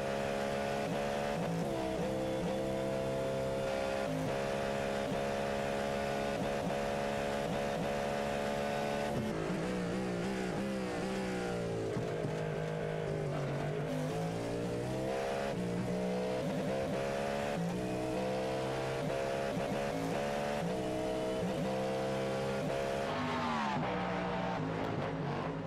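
A GTP prototype race car lapping Interlagos at the 4 Hours of Sao Paulo, heard onboard: a steady, loud engine drone rising and falling through gear changes, with no talk.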